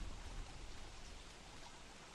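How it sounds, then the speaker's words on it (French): Rain falls steadily in the video game Don't Starve: Reign of Giants, a faint, even hiss of downpour with no other sounds standing out. "regardez la pluie quoi"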